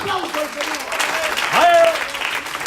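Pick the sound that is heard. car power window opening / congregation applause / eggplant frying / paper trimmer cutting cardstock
congregation applause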